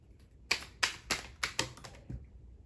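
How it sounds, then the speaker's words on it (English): Playing cards being shuffled, heard as a series of about six sharp, crisp riffling bursts in an irregular rhythm, close and moderately loud with no talking. "That wasn't enough shuffles to me either."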